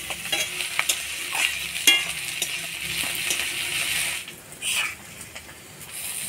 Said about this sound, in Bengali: তেলে দেওয়ার সাথে সাথে শুটকি মাছটা ভাজা ভাজা করে নিলাম।